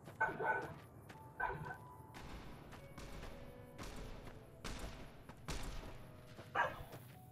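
A dog barks in short bursts in Fallout: New Vegas, with several yips and bow-wows spread through a busy game soundscape of thuds and background effects.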